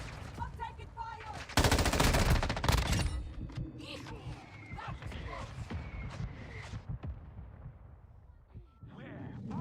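Gunfire in the video game MW3 Zombies, with a loud sustained burst of automatic fire followed by scattered shots and crackling explosions at mid distance, while voices talk over the action.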